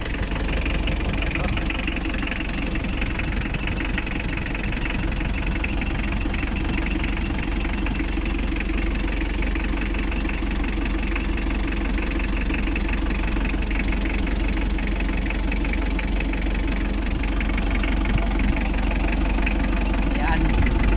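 A Mitsubishi L3 engine, troubleshot after it cut out while running, idles steadily with a constant loud mechanical rumble and a faint rapid knock throughout, close to the microphone and without a break.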